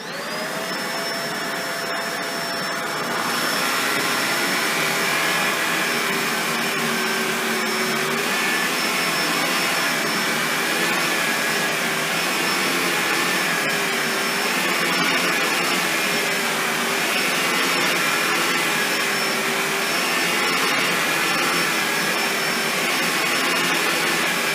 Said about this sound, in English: we run the machine over a bunch of long black hair, and then we move the cleaner head back and forth